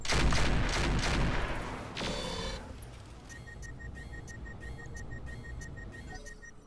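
Weapon fire aimed at a crab enemy in the video game Roguepoint: a loud burst of gunfire-like blasts at the start, then quieter repeated electronic shots and tones trailing off over several seconds.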